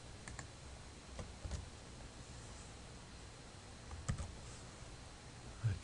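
Sparse, faint keystrokes tapped on a computer keyboard while typing code, a handful of soft clicks scattered over a quiet hiss.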